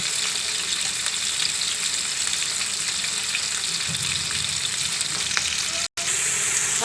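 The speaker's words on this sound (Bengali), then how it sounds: "মাছ উল্টে দিচ্ছি" Steady, dense sizzling and crackling of hilsa fish frying in hot oil in a pan, loud and close, with a brief cut near the end.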